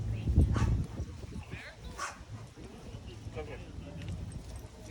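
A dog barks once or twice near the start at an outdoor barbecue in America, followed by faint whimpers and background noise while people talk throughout.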